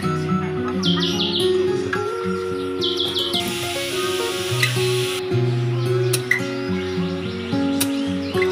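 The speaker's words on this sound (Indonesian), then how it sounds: "Sahabat Imran Fase, banyak sekali burungnya." A large flock of birds chirps and tweets in quick, overlapping bursts. The calls sound close and busy, over a steady layered background.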